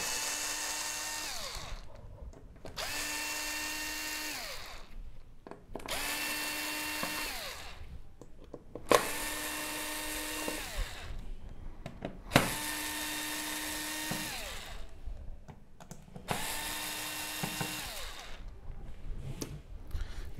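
A power screwdriver whirs in about six short, evenly spaced bursts, close up, as it backs screws out of the power supply board of an LG OLED65A1PUA television with a no-power fault. Brief quiet gaps fall between the bursts.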